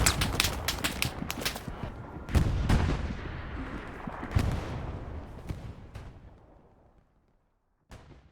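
In the World War II shooter Hell Let Loose, sharp gunshots and heavy artillery booms crack repeatedly, dense at first and then sparser, with reverberant tails decaying into near silence before a final distant shot.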